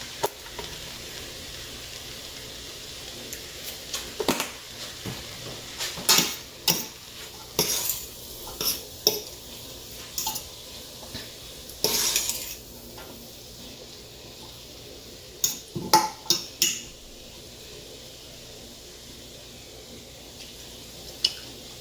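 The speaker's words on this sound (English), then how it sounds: "I'll give it another stir." Callaloo being stirred in a pot on the stove, seasoned with all-purpose seasoning and black pepper; a spoon scrapes and knocks against the pot in scattered bursts over a faint steady background, with no voices.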